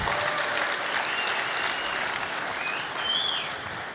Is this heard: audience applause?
yes